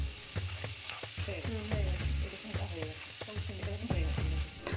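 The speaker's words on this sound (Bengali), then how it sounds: "আপনারা আপনাদের আলুর পরিমাণ মতো যতক্ষণ পর্যন্ত না আলু মুচমুচে হয়ে যাচ্ছে ততক্ষণ ভাজবেন" Potato sticks deep-fry into crispy French fries in hot oil, a steady close sizzle broken by repeated clinks and scrapes of a spoon stirring through the pan.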